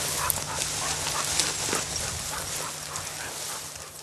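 A hunting dog on a pheasant hunt whimpers and pants softly at close range over steady outdoor background noise, with no talking.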